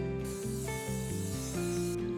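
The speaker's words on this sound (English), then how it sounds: "Next, we're going to get our ramekins ready with some nonstick spray." A continuous aerosol hiss from a can of nonstick cooking spray coating ramekins, steady and close, lasting a couple of seconds with slight shifts in tone.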